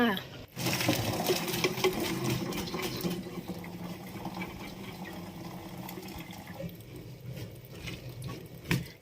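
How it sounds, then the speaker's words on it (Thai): Hot water poured off boiled soybeans for tempeh, a continuous rushing, splashing pour with metallic clatter of the pot, steady and close, fading slightly toward the end. "เดี๋ยวเราก็เทน้ำออกเลยค่ะ"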